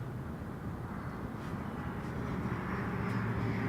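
A WestJet airliner takes off at Toronto Pearson with a distant, broad jet roar that swells gradually and grows louder toward the end.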